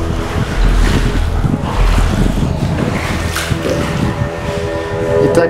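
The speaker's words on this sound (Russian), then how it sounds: "везде кругом пар и ветер" Wind and steam rush steadily through the main tunnel of the No. 8 adit at a mine, a loud continuous roaring hiss with low rumble that persists throughout without pause.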